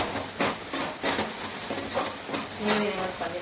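Fish curry masala being stirred as it fries in oil in a pan, with repeated scraping strokes over a steady sizzle and hiss, close and moderately loud, with no talking.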